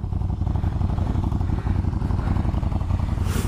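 Cruiser motorcycle being ridden, its engine droning steadily and loud throughout with a low rumbling pulse, some clattering texture and a brief rush of wind noise near the end.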